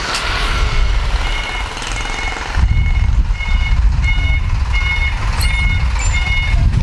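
A city bus pulls up at a stop in Vietnam while its reversing alarm beeps in a steady, repeated pattern over loud engine rumble and street traffic.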